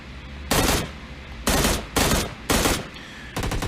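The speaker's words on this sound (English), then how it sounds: "So right now I have a M16, right? I'm shooting target at 10 meters." M16 rifle fire in PUBG Mobile, coming in five loud, sharp bursts of rapid shots with brief pauses between them and no talking.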